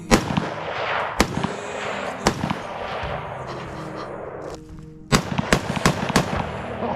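Gunshots fired at a deer during a hunt: sharp, loud single cracks spaced a second or so apart, with a quick cluster of shots near the end, heard outdoors with faint background noise.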